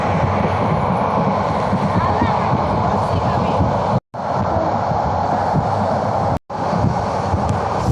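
Steady rumbling roar heard from inside a moving passenger train on a Bangladesh route past Akhaura, with wind noise; the drone continues without letup apart from two brief cutouts.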